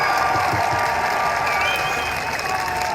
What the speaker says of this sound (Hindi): एक बार तालियों की गूंज में बताइए आप इमरान खान से कितना प्यार करते हैं।